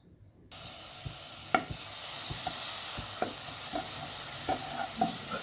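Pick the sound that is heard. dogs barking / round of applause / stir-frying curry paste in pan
stir-frying curry paste in pan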